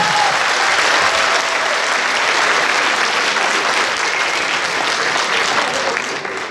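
An audience at a choreographic ensemble's solo dance concert claps loudly and continuously, a dense steady wall of applause that thins slightly right at the end.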